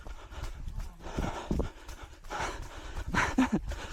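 A dog running at Uckfield parkrun pants rapidly in steady rhythmic bursts, close by, with thudding steps and some outdoor noise mixed in.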